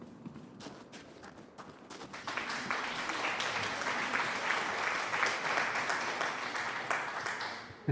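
A video-game crowd cheers in a space combat game, loud sustained broadband roar of many voices that swells after a softer start and holds steady to the end.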